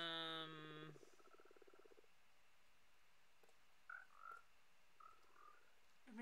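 Minecraft frogs croak in a few short, faint calls spaced over a quiet game ambience, after a brief tonal sound at the start.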